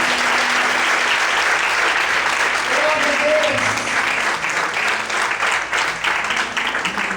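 A church congregation claps and applauds steadily for about seven seconds, a dense, close wash of hands with faint voices and calls mixed underneath.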